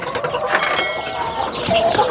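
Several chickens cluck and chatter continuously in a busy, small enclosed coop on a chicken farm, with overlapping calls at close range.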